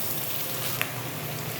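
Potatoes, onion and chopped garlic fry in a pan with a steady, close sizzle and faint crackle, one brief pop near the middle, with no talking.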